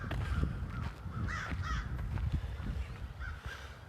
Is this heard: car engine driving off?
no